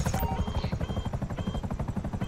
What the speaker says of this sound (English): I don't see the other helicopter.